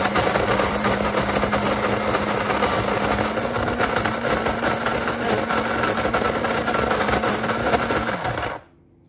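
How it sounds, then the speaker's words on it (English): A Boly adjustable electric coffee grinder grinds beans with a loud, steady whirring drone that holds evenly for about eight seconds, then cuts off abruptly as it shuts itself down. "it should bring down the amount of beans that it needs, grind those up"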